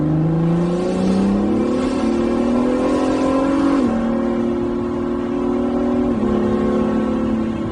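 A 2019 Acura NSX sports car accelerates hard, its engine note climbing steadily through the gears with brief dips at each upshift, loud and continuous from inside the car.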